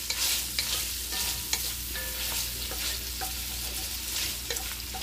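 Kielbasa and potatoes sautéing in a pot for a Southern cabbage soup, giving a steady close sizzle with faint stirring scrapes and utensil clinks throughout, no voices.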